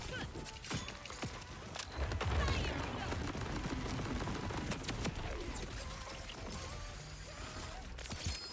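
Rapid bursts of video game gunfire from an arsenal of guns in a boss fight, dense and continuous over a busy mix of game effects and music, with a louder cluster of shots partway through.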